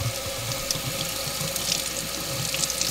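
Water runs from a tap to fill a toy water gun, a steady close splashing rush with a faint hum underneath, continuous for a few seconds with no talking.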